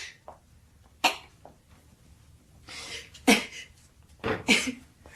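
Several short, harsh coughs come in separate bursts, one alone and then a few closer together, near and fairly loud against a quiet background.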